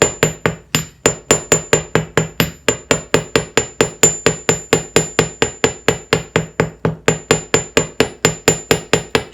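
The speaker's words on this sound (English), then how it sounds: "the more you hammer it, the harder you're going to make the needle" Rapid, steady hammering on a metal needle to work-harden it, dozens of sharp ringing strikes in a quick even rhythm, close and loud with no voices.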